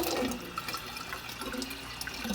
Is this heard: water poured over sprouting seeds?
yes